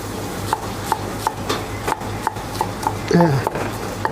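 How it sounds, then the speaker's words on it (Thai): A knife dices shallots, tapping steadily on a cutting board, regular chops about every third of a second, with a brief voice partway through. "หั่นหอมแดงให้เป็นลูกเต่๋า"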